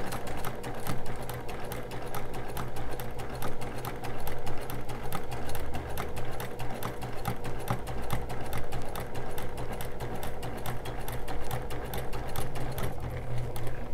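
A sewing machine fitted with a walking foot stitches curved designs across a quilt in one steady, continuous run of fast, even needle strokes.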